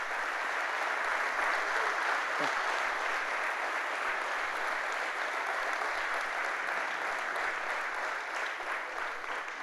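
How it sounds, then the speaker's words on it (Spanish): A church congregation breaks into sustained applause during a Sunday service, a dense steady clapping from many people that fills the room for about ten seconds without pause. "Denle un fuerte aplauso a Jesús entonces por eso."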